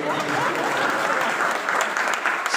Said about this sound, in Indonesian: Mana tepuk tangan dulu bagi